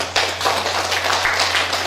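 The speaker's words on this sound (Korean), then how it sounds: "큰 박수 부탁드리겠습니다" An audience at a poetry recitation contest award ceremony claps steadily through the brief moment, dense and even applause over a low electrical hum.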